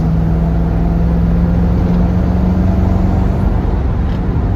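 A 1982 Jeep Wagoneer Limited accelerates at highway speed with a steady, dense engine and induction roar. Road and cabin noise fill the sound continuously, with no voices.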